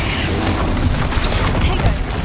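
Loud, crackling fire and blast spells (Incendio and Confringo) unleashed in combat in Hogwarts Legacy, a continuous dense barrage of bursts and booms with no gaps.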